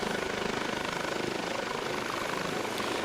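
Eurocopter HH-65 Dolphin Coast Guard helicopter with a Fenestron ducted tail rotor in Flight Simulator X, a steady pulsing rotor chop with turbine whine, continuous and even.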